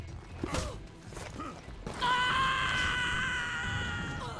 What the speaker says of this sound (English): the ledge screams are pretty darn solid all around here